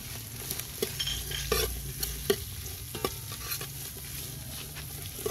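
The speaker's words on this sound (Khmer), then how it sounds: "ចាក់គ្រឿងចូល យើងលីងវាឲ្យវាឈ្ងុយហើយចេញពណ៌បន្តិចមកហើយ" Spice paste frying in hot oil for a goose sour soup, with a steady close sizzle and repeated light scrapes and clicks of stirring throughout.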